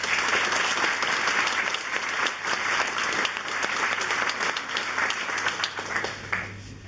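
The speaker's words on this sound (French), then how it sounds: "je crois qu'on peut l'applaudir pour ça" An audience at a National Front public meeting in Mazamet claps steadily and densely for nearly seven seconds. The dense applause fills a hall, then tapers slightly toward the end.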